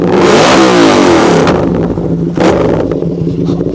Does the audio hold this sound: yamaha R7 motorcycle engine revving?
yes